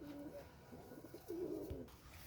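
A female Giribaz pigeon cooing close by in low, rolling bursts, one brief call early and a longer throaty coo later, fairly quiet over a faint background hum.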